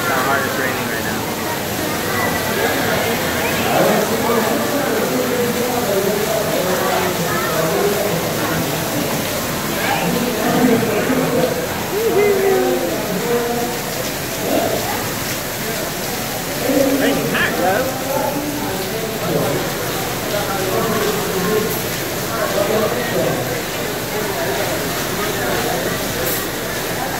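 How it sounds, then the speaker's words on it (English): Heavy rain pouring down, a dense, constant hiss and splash that fills the whole stretch, with people talking indistinctly underneath. "that's how hard it's raining right now."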